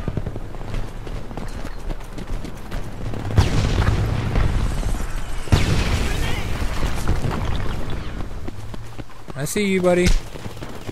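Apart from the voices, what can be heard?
tank shooting at the player in the video game Homefront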